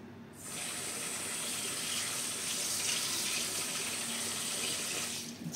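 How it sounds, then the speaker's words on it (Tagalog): Tap water runs steadily into a cooking pot, filling it so meat can be boiled to render out its fat; a constant, close, broadband gush lasting several seconds, stopping abruptly at the end, with no talking. "Ngayon, lalagyan ko rin ng tubig yan."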